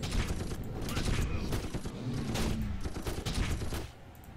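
A turret in The Red Solstice fires a dense, continuous stream of rapid shots that rolls on steadily for several seconds before cutting off near the end.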